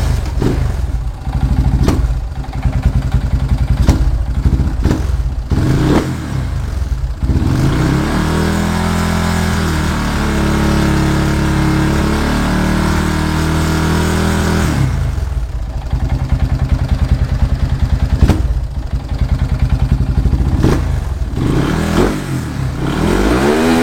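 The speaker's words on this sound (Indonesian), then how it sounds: "RPM langsam 1000, tengah mulus tanpa berebet" A Yamaha Scorpio 225 motorcycle engine idles steadily at close range after a carburetor vacuum set swap, with a smooth, even low rumble and a few brief throttle blips.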